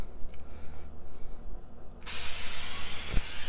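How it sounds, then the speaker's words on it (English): After a quiet moment, butter cooking spray bursts out onto a baking tray in a steady, loud hiss lasting over a second, close by, with a small thud near the end. "So what I'm going to do is spray it with some butter spray."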